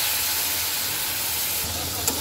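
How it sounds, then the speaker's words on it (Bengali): A splash of water hits hot oil mixed with turmeric and coriander, setting off a loud, unbroken hiss of steam and sizzle up close for a couple of seconds. "এখন আমি দিয়ে দেব পোড়ার আগেই হালকা একটু জল"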